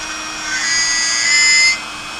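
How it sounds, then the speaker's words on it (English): High-speed Dremel rotary tool whines close up as it drills straight through a prop gun body, rising to a bright sustained scream for about a second before spinning down. "High speed with the Dremel. And go straight through here."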